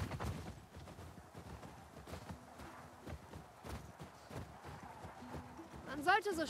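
A horse in The Last of Us Part II makes faint, steady clip-clop hoof steps at a walking pace, with a brief voice near the end.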